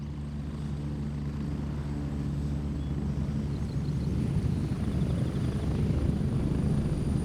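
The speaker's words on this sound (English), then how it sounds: "Why are they calling so many choppers?" Helicopters in a video game, a steady loud rotor drone with low rhythmic thumping that swells slightly toward the end, heard alone with no talking.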